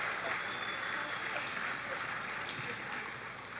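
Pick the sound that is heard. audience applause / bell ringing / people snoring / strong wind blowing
audience applause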